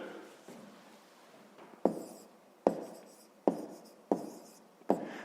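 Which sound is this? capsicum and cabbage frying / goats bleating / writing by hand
writing by hand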